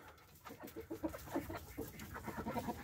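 Chickens clucking in a coop, a steady stream of soft, close clucks and murmuring calls from several birds with no talk.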